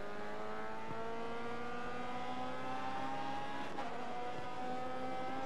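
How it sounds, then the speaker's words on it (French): A race car drifting in the GRID Autosport racing game, a steady high engine drone with layered whining tones and a tire-scrub texture, loud and continuous without any talk. "J'attaque trop, je suis en drift."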